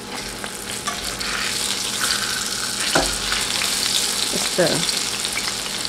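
Urad dal fritters (dahi baray) fry in hot oil with a loud, steady, close sizzle, marked by a few brief stirring clinks and bubbling bursts. A voice speaks briefly.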